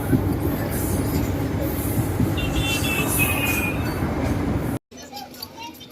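Salasar Express passenger train picking up speed on rails, a loud continuous rumble of wheels and carriages with a faint squeal, heard from on board, broken by a brief cutout near the end.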